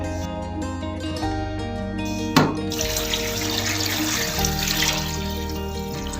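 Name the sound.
water pouring into pot with chicken for soup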